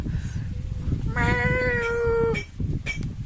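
A cat meows once, long and clear with a rising then sustained tone, over a steady outdoor background in a shady village spot.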